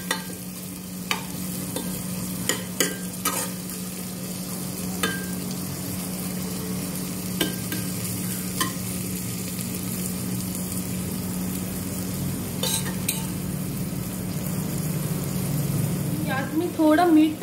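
Onions sauté in a pan over a high gas flame, a soft steady sizzle punctuated by sharp scraping and stirring strokes, with someone talking throughout.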